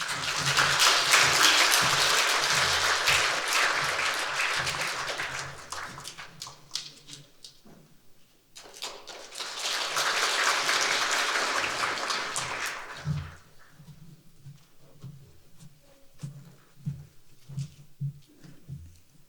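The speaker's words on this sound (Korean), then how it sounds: "우리 박수 한번 쳐드리겠습니다." A church congregation during a Sunday worship service claps in two loud bursts separated by a brief lull, then the applause fades to sparse taps and low background sounds.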